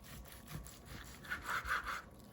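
A knife saws back and forth through a cooked tomahawk steak, making quiet, close rasping strokes that grow a little louder toward the end.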